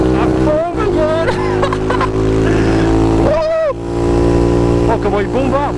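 Honda Dax 140 motorcycle engine roaring loud and close while riding uphill through a bend, steady drone with rising and falling revs, someone talking excitedly over it.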